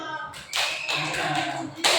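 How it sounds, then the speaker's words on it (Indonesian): A class of pupils claps hands for a student group, a short burst of scattered applause that thins out, then a second loud burst at the very end. "Tepuk tangan untuk kelompok 1"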